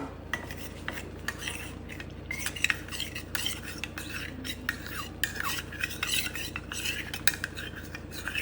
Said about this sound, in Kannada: ಇದಕ್ಕೆ 1-2 ಟೇಬಲ್ ಸ್ಪೂನಷ್ಟು ನೀರನ್ನ ಕೂಡ ಹಾಕ್ಕೊಂಡು ಮಿಕ್ಸ್ ಮಾಡ್ಕೋಬೇಕು.